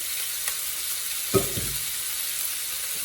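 A loud, steady sizzle of shrimp and chicken lo mein stir-frying in a hot pan, with a short burst of stirring and scraping with a wooden spoon partway through.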